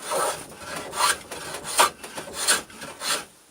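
A hand tool shaves wood on a wagon part in a series of short rasping strokes, about six evenly paced scrapes close to the microphone with brief pauses between them.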